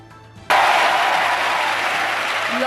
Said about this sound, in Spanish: Aplausos de los grupos que le han apoyado